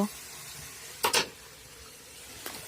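Chicken and potato frying with a little water added, a low gentle simmering hiss punctuated by a couple of sharp spatula scrapes and clatters against the pan, close by.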